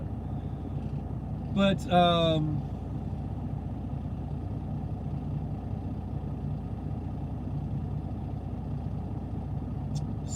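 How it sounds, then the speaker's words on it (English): A car engine idles nearby with a steady low rumble throughout, while someone speaks briefly over it early on. "I got the engine running, so I don't know if it's drowning me out or not."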